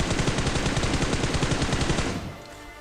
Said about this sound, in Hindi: मैं अगेन फायर करता हूँ